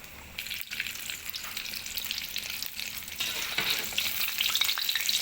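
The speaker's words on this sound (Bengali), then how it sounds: "এটাকে লাল করে ভেজে নিতে হবে।" Battered potatoes fry in hot oil with a steady, dense sizzle and crackle that grows slightly louder, with no voices over it.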